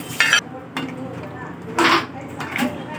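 Paneer cubes go into a pan and are stirred with a utensil, giving two short bursts of clattering sizzle separated by quiet gaps.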